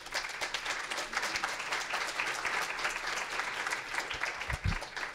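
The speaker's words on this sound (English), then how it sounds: "Let's give him a round of applause." Audience applause welcoming a speaker to the stage at a New School event on incarceration, a sustained wash of clapping from a large room, fairly distant and even, with a couple of low thumps near the end.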